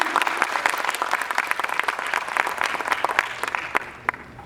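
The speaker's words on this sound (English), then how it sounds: "can we have a huge round of applause for esteemed sponsors of Optimity 2019?" A large audience at the Optimity 2019 workshop event gives a sustained, dense round of applause for its sponsors, loud and close, tapering off at the end.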